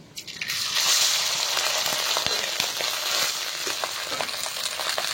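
Leftover cooked rice hits hot oil already seasoned with cumin seeds, dried red chilli and kasuri methi, giving a loud steady sizzle with scattered crackles and pops throughout, close up and without talk.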